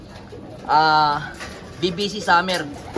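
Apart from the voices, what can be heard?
young racing pigeon cooing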